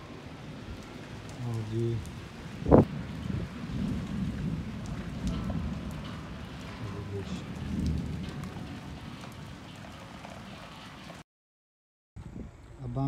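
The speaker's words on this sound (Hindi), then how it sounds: "बारिश हो गई, बारिश हो गई हो रही है।" Steady rain falls on a village farm field in Punjab, a broad continuous patter with one sharp loud crack near the start, and someone briefly speaks over it.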